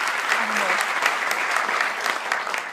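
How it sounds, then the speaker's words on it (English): Audience applause at a university lecture in Britain, a dense, steady wash of many hands clapping that holds for the full stretch, with a faint voice briefly audible beneath it. "So a round of applause for them being here for sure."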